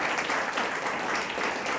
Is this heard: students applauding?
yes